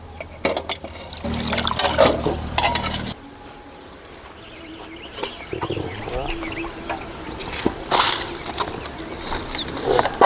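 Water poured and splashed while rinsing river dry fish, coming in uneven gushing bursts with a quieter stretch in between, close by and fairly loud.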